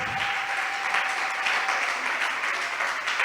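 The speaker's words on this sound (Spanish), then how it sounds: "Un aplauso." Applause from a church audience welcoming a newcomer, a steady wash of many hands clapping at moderate level for the full span, with a faint sustained tone running beneath it.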